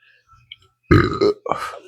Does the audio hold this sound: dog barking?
no